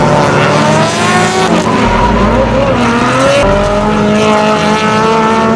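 Tuned, lowered show car drifting at a Japanese-style drift and dress-up event, its engine loud and sustained with shifting revs while tires squeal and skid continuously throughout, close and dominant with no talk.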